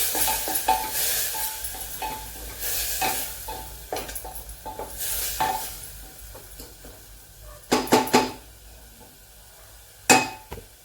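Masala sautés in a pan with a constant soft sizzle, broken by repeated scraping strokes of a spoon and a few sharp clinks of metal against the pan, close up, no talking.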